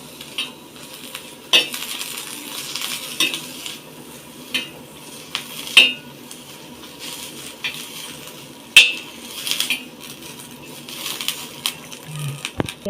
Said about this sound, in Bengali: আমি এখন একটা তাওয়া দিতেছি, তাওয়ার মধ্যে এই মরিচগুলো প্রথমে ভাইজে নেব।